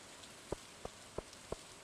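Rain falls in the video game Stardew Valley as a faint steady patter, punctuated by four evenly spaced soft taps, quiet and alone.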